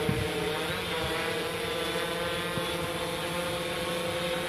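An RA 400 remote-controlled aircraft coming in to land gives off a steady, continuous propeller drone that holds at an even, fairly loud level throughout, with no voices.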